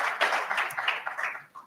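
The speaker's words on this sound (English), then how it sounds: "just get a little love and applause here" Applause breaks out for Michael Staley, a DDOT Transit executive manager, at a Tri-County Summit: a short burst of hand clapping from an audience, moderately loud at first and thinning out after about a second and a half.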